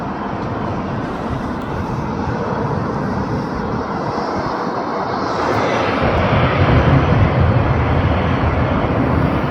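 A loud, steady jet engine roar builds as an airplane lands, with the rumble swelling toward the end and no voices.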